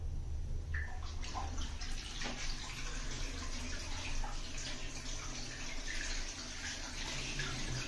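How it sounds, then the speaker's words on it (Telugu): Water pours down from above into a forest-style washroom setting, a steady, close rushing flow that fills the whole stretch without break. "పైనుంచి వాటర్ వస్తున్నాయి, అక్కడి నుంచి వస్తున్నాయి వాటర్"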